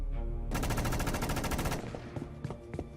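A loud, rapid burst of automatic gunfire lasting about a second, followed by scattered sharper shots and clatter.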